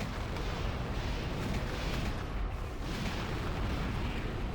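Enemy fire in the Armored Core For Answer mech game, a dense continuous roar of booming blasts and gunfire, loud and unbroken, with no talking.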